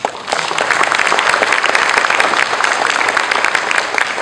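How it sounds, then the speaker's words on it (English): Office town hall crowd applauding steadily, dense overlapping claps filling the room at even loudness from start to finish. "you must give yourselves a round of applause"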